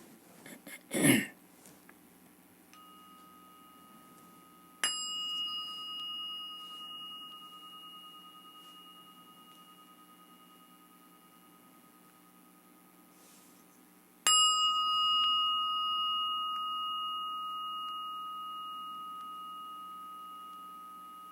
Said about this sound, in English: This is the little bell that I use.